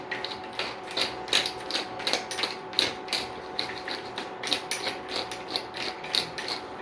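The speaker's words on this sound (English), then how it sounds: "And then with this nice pepper grinder," A hand-cranked pepper grinder cracks peppercorns over a steak in a butcher's kitchen, giving a steady run of quick ratcheting crunches and clicks, close and fairly loud, with no talking.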